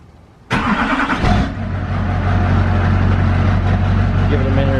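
A diesel truck engine cranks and fires after the glow plugs have heated, then settles into a loud, steady idle close by.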